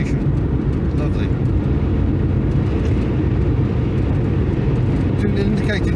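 A 1979 Honda Accord with a 1.6 engine and 5-speed gearbox cruising at speed on the road: a steady, dense low engine drone mixed with road and wind noise, continuous and close, with someone talking over it.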